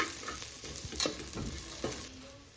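Rice being stirred and fried in a pan for ghee rice gives a low, steady sizzle broken by a few soft spoon scrapes and clicks, fairly quiet and with no voices.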